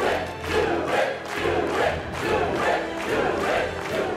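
Hospital staff in an episode of A Series of Unfortunate Events chant together in a loud, rhythmic crowd. Pulsing cheers rise and fall about twice a second throughout.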